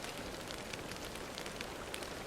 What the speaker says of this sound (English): why is everyone so excited about the rain?